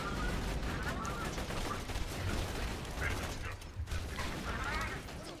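A turret fires rapid, rattling bursts at an enemy in the video game Borderlands 2 amid dense, busy game noise. The level is fairly low, and a voice talks over it.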